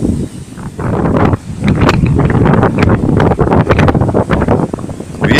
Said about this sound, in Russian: Ветер не утихает.